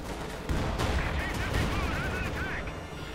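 A field gun fires during a Company of Heroes 2 battle, its booming reports set in a dense, continuous din of gunfire, explosions and combat noise, with a voice faintly heard over the fighting.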